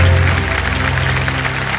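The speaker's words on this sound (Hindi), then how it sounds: "तालियां बज जाए" Studio audience applause on a Hindi-language TV quiz game show, a dense, loud, sustained burst of clapping that fills the room for a couple of seconds.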